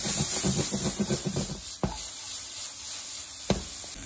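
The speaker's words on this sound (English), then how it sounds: "We just want to sweat the peppers." Peppers sweat in hot oil in a pan, giving a soft continuous hiss. A few sharp utensil knocks cut through it, and a brief rattling clatter comes first.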